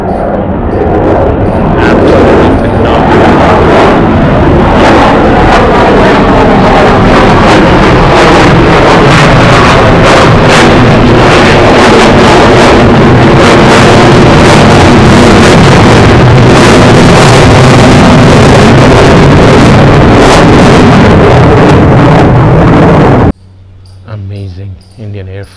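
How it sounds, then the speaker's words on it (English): A Sukhoi Su-30MKI fighter jet takes off from an airbase, a very loud sustained roar with buffeting wind that swells and holds for over twenty seconds before cutting to quieter background. "Sukhoi 30MKI taking off from an airbase"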